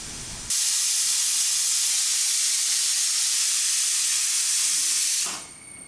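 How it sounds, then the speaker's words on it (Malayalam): A pressure cooker of pork whistles with a loud, steady steam hiss that bursts on abruptly, holds evenly for nearly five seconds, then fades out, heard up close with no talk. "ഇറച്ചി കുക്കറിലേക്ക് വെച്ച് ഒരു 3 വിസിലടിക്കുന്നത് വരെ വെയിറ്റ് ചെയ്യുക"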